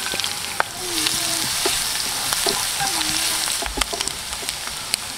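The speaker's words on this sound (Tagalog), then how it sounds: "Then mag-start na po tayong mag-gisa ng bawang." Garlic sautés in a pan during outdoor cooking, a continuous close sizzle broken by occasional scrapes and taps of a utensil against the pan.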